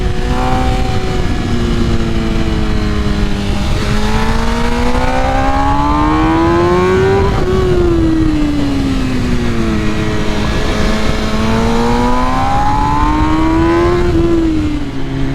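A 2021 MV Agusta Rush motorcycle engine howls on a dyno, loud and close, its pitch climbing and falling in repeated sweeps as the revs rise and ease off.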